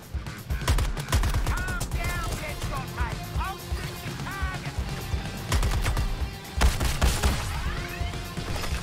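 Pistol gunfire in the video game Suicide Squad: Kill the Justice League: sharp, rapid shots crackle in bursts over a dense game soundtrack, with voices and other game effects mixed in.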